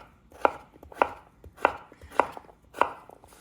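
A knife chops through zucchini on a cutting board while making Italian sausage soup. Five crisp, evenly spaced strikes land about every half second, close and clear with no talk.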